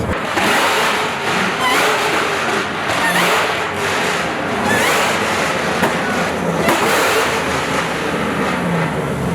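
A turbocharged LS1 V8 swapped into a Mazda RX8 idles roughly at a drag racing event, loud and close with an uneven, lumpy rumble and surging pulses throughout.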